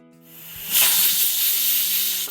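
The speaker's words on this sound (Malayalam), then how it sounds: "ഫസ്റ്റ് വിസിൽ വരുന്നതുവരെ വെയിറ്റ് ചെയ്യുക" Steam bursts into a loud, steady hiss after a brief low hum, close and continuous, as a pressure cooker on high flame lets off its first whistle while cooking Kerala koottu curry.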